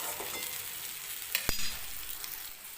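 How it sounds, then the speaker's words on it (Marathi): Stuffed okra sizzling as it is stirred in a pan, a soft steady fry with light scraping and one sharp clink of the spoon against the pan partway through. "अशा पद्धतीने मी व्यवस्थित अशी मिक्स करून घेते भेंडी"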